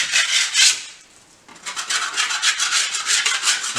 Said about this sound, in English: you can give it a bit of a scrape over, get rid of any excess filler over the edges